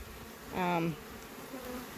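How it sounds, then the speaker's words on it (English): A honeybee flies close past the hive, its loud buzzing drone swelling briefly before fading back into a quieter hum of bees around the hive. "I'm just going to sit here and watch my bees"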